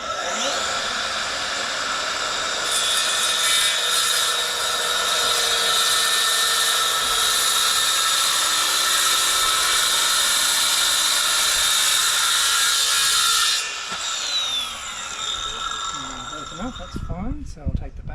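A battery power tool cuts steadily through material for a bed build inside a Sprinter van, making a loud, continuous high-pitched whine for about eleven seconds before it stops abruptly, followed by a few quieter clatters.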